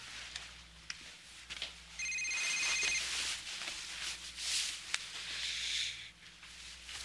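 A telephone ringing faintly indoors, a short electronic trill repeating in one burst about a second long, low in the mix under quiet room noise.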